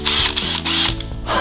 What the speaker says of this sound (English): This is a cordless drill. It gets power from its battery, see?